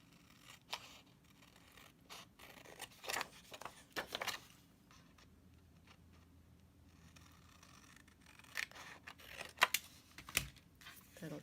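Scissors cut paper into a triangular Christmas tree shape for a shadow box craft, producing a handful of quiet, sharp snips and crisp scrapes in irregular bursts against a faint background, with pauses between cuts.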